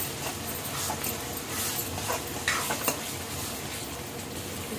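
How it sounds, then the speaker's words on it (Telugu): Onions frying in oil with ginger paste for beef curry, a dense steady sizzle with occasional stirring scrapes close by, and a dog whimpering faintly in the background. "ఉల్లిపాయలు అయితే ఈ విధంగా అయితే వేగుకోవాలండి"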